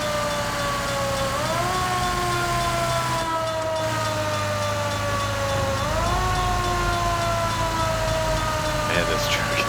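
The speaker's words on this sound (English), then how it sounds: "It's like they're just ignoring the siren." A fire truck siren in a video game wails loud and continuous, sweeping up and down in long cycles over a steady engine drone, with faint game noise behind it.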